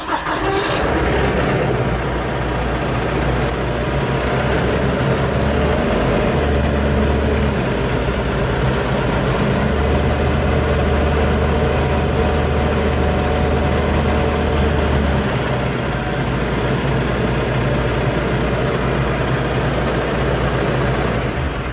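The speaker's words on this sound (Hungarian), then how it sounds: "most meghallgatjuk, hogy milyen szépen is szól ez a traktor." A Basak 5115 tractor engine runs steadily and close by, a loud low diesel throb with a constant hum throughout, no talk over it.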